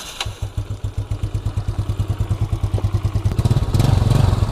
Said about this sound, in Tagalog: Warm up na natin ang makina